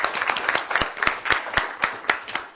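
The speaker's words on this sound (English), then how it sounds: "So you can give him a round of applause." Audience clapping at a county council and committee meeting, a sparse, irregular round of individual hand claps from a small group, close and fairly loud, with no talking.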